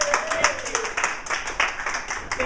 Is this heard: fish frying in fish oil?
no